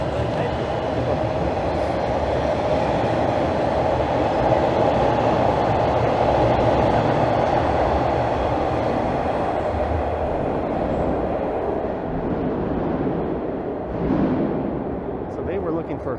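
A Toronto subway train rumbles through Pioneer Village station at York University, a sustained loud roar of wheels and motors with faint squeals, easing near the end as it passes.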